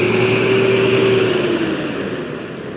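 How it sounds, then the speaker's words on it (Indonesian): A truck engine idles while warming up, giving a steady, close, continuous drone with a faint tonal whine that eases slightly toward the end. "Lagi panas mesin ya."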